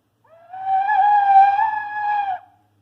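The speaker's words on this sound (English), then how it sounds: "on a recorder, you'll get lots of squeaks" A squeaky recorder note played by fingers with long nails that fail to cover the holes, a single sustained shrill tone of about two seconds with wavering pitch, alone and fairly loud.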